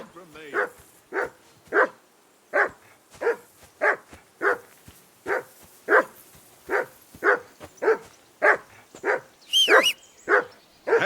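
A dog barks repeatedly in Kingdom Come Deliverance II, about fifteen evenly spaced gruff woofs at a steady rhythm, close and clear, with a brief higher whine near the end.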